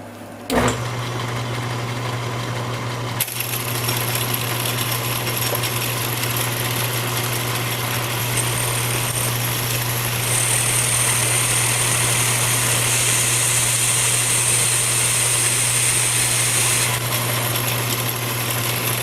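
A machine cutting tool skims the outside of a diamond grinding wheel crush dresser, giving a steady loud mechanical drone with a constant low hum and a thin high whine that comes and goes during the cut.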